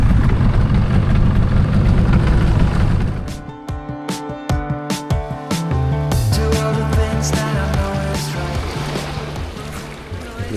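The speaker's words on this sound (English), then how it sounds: "we are basically on a little, on a little pump boat" A small pump boat heads toward an island beach near Phuket, Thailand, its engine a steady, close roar mixed with rushing water, followed by a stretch of rhythmic, pulsing mechanical sound.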